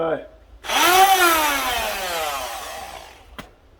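A handheld power drill fitted with a metal polishing cone spins up loudly and runs steadily with a whirring, polishing whine for a few seconds, then cuts off, while polishing the bumper of a 50-year-old Chevelle.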